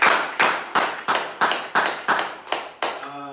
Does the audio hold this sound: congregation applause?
yes